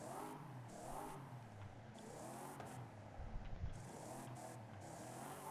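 A deep 1969 Pontiac GTO Judge engine with a 6.2 liter V8 in the video game Forza Horizon 5 revs steadily, rising and falling in pitch over a continuous loud drone with a brief rougher surge midway.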